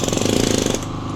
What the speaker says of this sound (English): Now I use an air chisel.